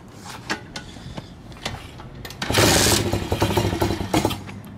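A Tao Tao 140cc pit bike engine sputters to life after a few mechanical clicks and then runs in a rough, uneven idle close by, with no talking.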